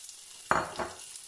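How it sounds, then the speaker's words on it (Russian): Pork fat (salo) placed into a very hot frying pan for rassolnik soup, giving a sudden sharp sizzle that settles into a steady quiet crackle. "На раскаленную сковороду выкладываем сало."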